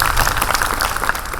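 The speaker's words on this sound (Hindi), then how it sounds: "तालियां बजाइए।" A group of students in a meditation class claps together in a brief, lively round of applause, fairly close and filling the room.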